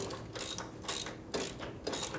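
A socket on a breaker bar is ratcheted on a bolt of a 1957 Harley panhead drag racing bike, giving four close, quick bursts of metallic clicking with short pauses between them.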